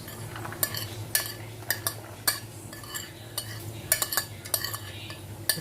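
A spoon clinks and scrapes repeatedly against a pan while chili, ginger, garlic and onion are stirred into a sauce for tokwa't baboy, sharp metallic taps in an irregular rhythm over a low steady hum.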